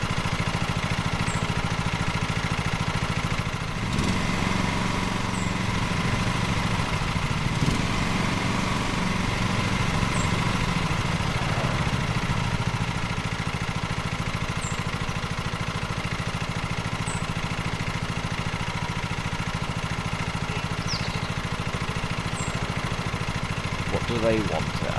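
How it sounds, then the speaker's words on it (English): Lawn mower engine in a lawnmower simulator video game, a steady mid-pitched idle running continuously at even loudness, with a player talking over it. "Get on vehicle. Vehicle. Hold to start engine."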